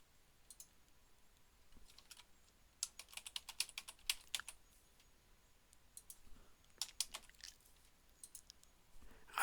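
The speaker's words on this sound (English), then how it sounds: "I'm not doing a very good job of typing." Close, quiet typing on a computer keyboard in irregular bursts of quick keystrokes separated by short pauses, with no talking.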